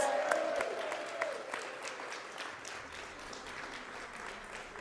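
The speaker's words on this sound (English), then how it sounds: "Can we give Trudy a round of applause so she can hear us wherever she is?" Election-night crowd at a campaign headquarters applauds for a candidate named Trudy, a distant, fairly faint patter of clapping heard through a broadcast feed, with a brief voice at the start.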